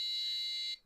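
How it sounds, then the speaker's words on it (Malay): A buzzer wired to an Arduino Uno sounds one steady, loud beep on the note C4, held for most of a second before cutting off cleanly. "sekarang kita akan dengar bunyi buzzer selama 1 saat"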